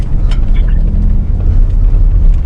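Ford Raptor pickup rolling slowly along a dirt border patrol trail, steady low engine rumble and road noise close up inside the cab, with a few faint rattles and no talk.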